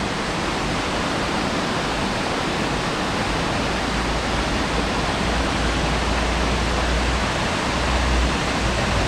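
Water rushes steadily through a pool that once drove an old water-powered foundry, a dense, continuous outdoor wash with no break in its level.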